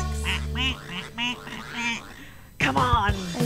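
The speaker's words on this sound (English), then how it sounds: "Oh, ducks!" Cartoonish duck quacks from a game sound loud and close in a rapid series of nasal calls, with a short pause before a final burst of quacking.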